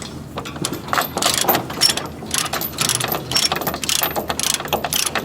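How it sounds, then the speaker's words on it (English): A hand crank with a ratchet lever is turned, giving a fast, continuous run of close metallic ratchet clicks and grinding gear noise that lasts throughout. "Lift that little lever and then start cranking."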